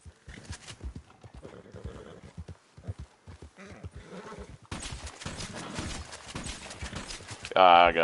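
A horse in Red Dead Redemption 2 clip-clops in quick hoofbeats, then snorts and whinnies loudly near the end amid game noise, with someone talking over much of it.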